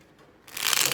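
Tarot cards shuffle up close, a quiet start then a sudden dense burst of riffling papery flutter lasting about half a second, with no talk.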